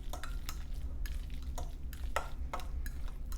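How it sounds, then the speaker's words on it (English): A spoon stirs cinnamon and sugar into soft cooked sweet potatoes from an Instant Pot, giving steady rhythmic scraping strokes against the pot, close and moderately loud, with no talking. "So we're going to mix that in."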